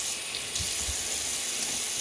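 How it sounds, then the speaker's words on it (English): Running water splashes steadily during face washing in a bathroom by the tub, a continuous close hiss and spray with no gaps and no voices. "Then wash my face off."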